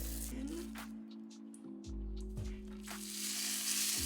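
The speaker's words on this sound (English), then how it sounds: "And you want that sizzling noise." Steady, loud sizzling of steak frying in hot oil, a continuous crackling hiss with faint clinks and low hum underneath.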